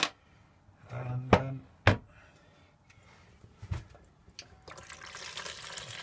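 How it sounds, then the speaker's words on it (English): Water from a pump splashes into the sink of a small Eriba Future 430T caravan, with a few knocks and clunks early on, then a steady running stream building toward the end. "so that's water pump's working all right."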